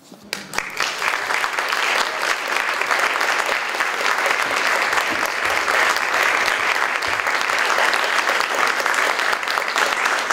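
Audience applause fills a venue after a poetry reading at Karamu House in Cleveland, steady and dense clapping sustained for about ten seconds after a brief start.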